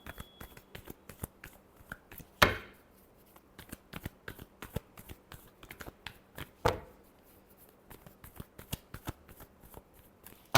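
Tarot cards are shuffled by hand in quick, close, papery riffles and taps, with two sharper slaps of the deck standing out amid the soft repeated flicks.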